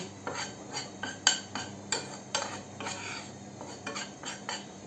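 Flour sautéed in a pot is stirred with a metal spoon, giving a run of about ten rhythmic scraping clinks against the pot, close and fairly quiet, with no talking.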